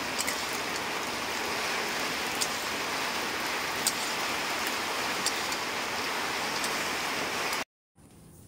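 Heavy rain falling steadily, a continuous dense hiss with occasional louder drips, uninterrupted until a brief dropout near the end.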